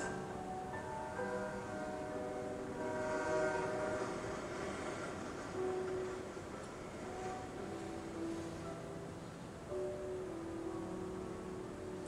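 A departing train rolls steadily for twelve seconds, a continuous rumble with sustained tonal whine and horn-like notes that shift and fade slightly, heard alone without voices.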